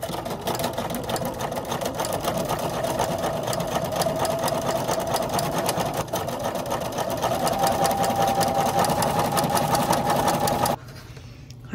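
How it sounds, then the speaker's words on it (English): A sewing machine stitches along one edge of quilt fabric for an Ohio Star quilt block, running as a steady close whir that holds nearly eleven seconds before stopping abruptly into near silence. "I'm just gonna sew along one side"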